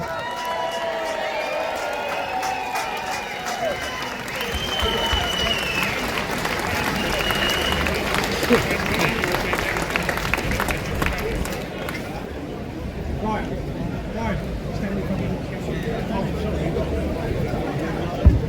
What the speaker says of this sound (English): please give a massive, massive round of applause for Elizabeth Harper, please.